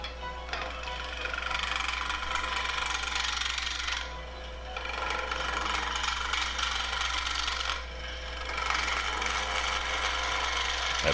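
A wood lathe spins a burl blank while a tool scrapes across it, giving a steady low motor hum under a rough, rasping cutting noise that swells and eases in long passes, fairly quiet overall.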